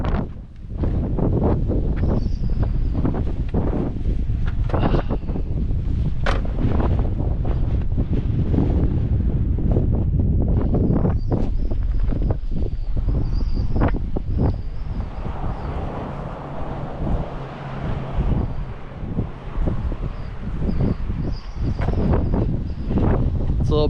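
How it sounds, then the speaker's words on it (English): Strong wind buffets the microphone outdoors beside a parked BMW E36 M3 on a wet day, a steady loud rumble with gusty bursts filling the whole stretch, with no clear voices. "It is pretty windy"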